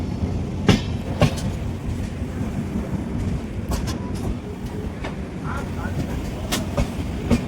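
A train pulls in at Thivim station in Goa with a steady rumbling roar and periodic sharp clacks of the wheels. Faint voices sit under the noise.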